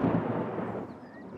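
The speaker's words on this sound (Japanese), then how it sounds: "雷の音よ。 この音がしたら嵐が来て、" Thunder from a Peppa Pig cartoon rolls as a low, brief rumble that starts strong and slowly fades over about a second, heard alone without talk.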